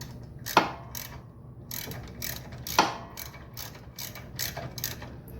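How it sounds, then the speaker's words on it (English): Ratchet wrench unscrewing the oil drain plug on a Scag Liberty Z mower, rapid close clicking in short bursts with two sharper metallic snaps. "Okay, now that we unscrewing the socket here."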